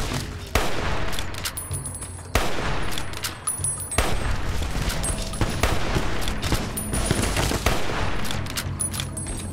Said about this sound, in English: Damn it, we are getting shot.